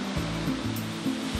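Steady broadband roar of a waterfall pouring into a basalt columnar-jointed gorge, loud and continuous with no speech, a few low rumbling swells beneath the rushing water.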